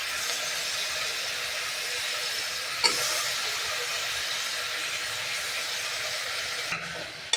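Brinjal and potato frying in a pan for vangi bath, a steady loud sizzle and hiss throughout with a couple of brief stirring clatters; no talk.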